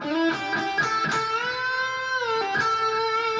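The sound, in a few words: guitar lick with bend and pull-off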